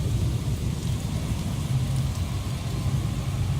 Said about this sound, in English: Oh, it is really raining, huh?